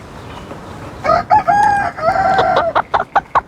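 A chick peeps and cheeps loudly and close by, a few drawn-out calls followed by a quick run of short chirps.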